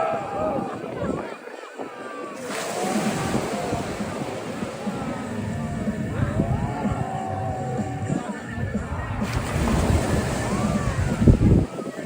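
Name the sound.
ocean waves with wind at Coney Island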